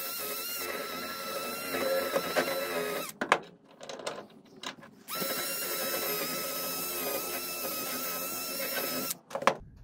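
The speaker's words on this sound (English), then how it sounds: "I'll go ahead and hit that with the wire wheel and see how it looks." A powered wire wheel whines against a fresh weld on a Ford Festiva shifter part, two long steady grinding runs with a short pause and a clunk between them.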